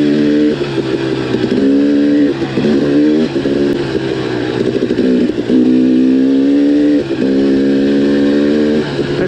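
A dirt bike engine revving and lugging along the Timberline to Hillerton 50-inch ATV trail in Taylor Park, Colorado, loud and close, with repeated throttle rises and shifts in a steady cycle and no speech.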